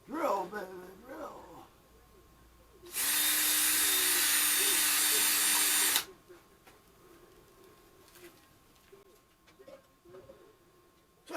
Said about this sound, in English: Drill, baby, drill.